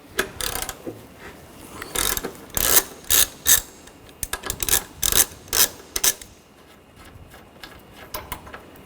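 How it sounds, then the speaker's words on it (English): A socket wrench ratchets out a bolt on a 2009-2013 BMW 328i xDrive during master cylinder replacement, bursts of sharp close clicking in quick runs with short pauses between, loud and without speech. "Use a E14 socket. Take this bolt out."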